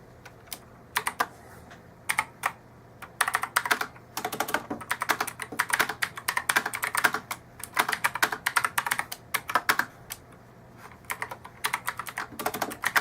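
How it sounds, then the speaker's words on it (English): Typing on a Rottay 104-key RGB mechanical keyboard, a fast irregular run of crisp close-up key clicks with short pauses between bursts, continuing for over ten seconds without speech. "here we are with the typing test."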